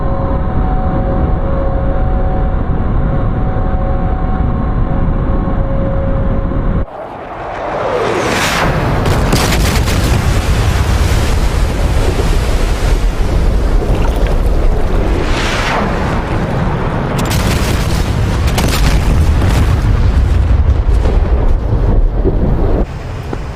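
Heavy bomb explosions hitting a SAM base in DCS World: after a steady engine drone, a deep booming blast erupts, followed by several more rumbling detonations and debris crackle, loud and close without talk.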